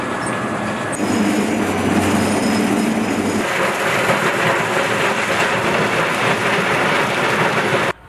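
Loaded coal wagons roll through a railway siding at a mine's coal handling plant, a loud, steady rumbling clatter that continues throughout and cuts off abruptly at the end.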